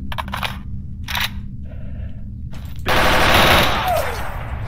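An M4 rifle in the game Stalker Anomaly fires in short bursts, separated by gaps, then breaks into a longer, louder stretch of rapid automatic fire.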